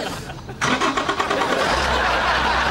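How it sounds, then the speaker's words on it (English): A powerful diesel engine starts up with a sudden loud crank and catch, then settles into a steady, rumbling idle close by, with no talk over it. "It's not just got wheels, it's got a powerful diesel engine as well, by the sound of things."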